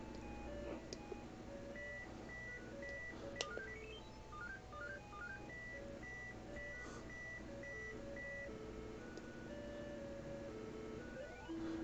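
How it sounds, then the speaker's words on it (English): Bump n Jump video game audio: a soft, chirpy electronic melody of stepped beeping tones plays on continuously, with gentle alarm-like bleeps woven through it at low volume. "There's alarms going off, but they're not like piercing alarms."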